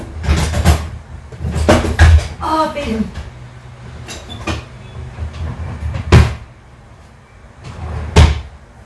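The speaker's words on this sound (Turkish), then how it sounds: "Çekmece düştü değil mi?" A drawer drops and is handled in a home, giving several sharp thuds and wooden clatters spread over the span, with people talking in between.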